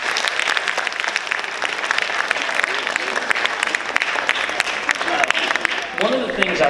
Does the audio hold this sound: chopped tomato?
no